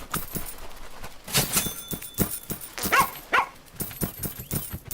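A dog barks in the farming game Plantera, a few short yaps and whimpers amid soft rhythmic patter, moderately close with no talking.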